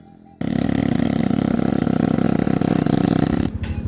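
A motorcycle engine starts abruptly and drones loudly with a strained, steady roar as it climbs uphill through thick fog in a village, then drops off near the end.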